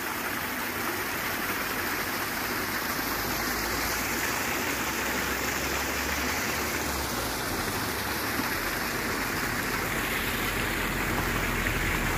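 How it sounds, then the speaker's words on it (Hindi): Waterfall in Romania near a lakeside hotel and campsite, a steady loud roar of rushing water filling the whole stretch without a break. "ये है जी वाटरफॉल।"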